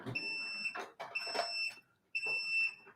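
High electronic alarm beeps from an air quality monitor in three long bursts separated by short gaps, loud and close, over faint background noise.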